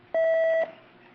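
A single steady electronic beep from pressing the phone button on an American Bell (AT&T) ECS telephone, lasting about half a second, clear and close with no talk.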